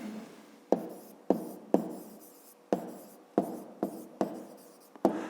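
A pen writes a maths answer on paper in a series of short, close scratching strokes, roughly eight quick bursts with small pauses between them and no voice.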